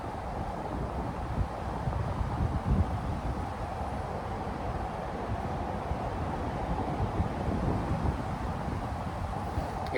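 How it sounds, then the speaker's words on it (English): Wind blows steadily outdoors as a constant, fairly quiet rushing roar buffeting the microphone for the whole stretch, with no voices. "If this wind keeps blowing,"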